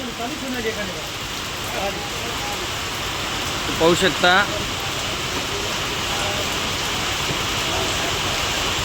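Heavy rain pours down in Ardhapur taluka in a dense, constant hiss, and a voice speaks briefly beneath the downpour.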